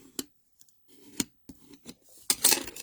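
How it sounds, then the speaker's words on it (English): A bone folder creases the paper tabs of a handmade star-top gift box, giving several short, sharp scraping strokes, sparse and close, with a denser rasping rub at the end. "good old trusty bone folder. Let's do some bone folding."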